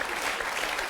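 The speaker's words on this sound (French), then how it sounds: "on peut applaudir Zoran" TV game show studio audience applauding, a dense burst of clapping that fills the whole second at steady loudness.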